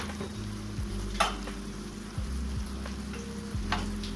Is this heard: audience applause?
no